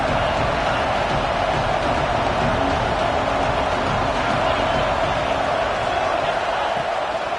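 Crowd noise from a college football video game on a third-down red zone play, a constant loud roar of stadium cheering with no break or lull.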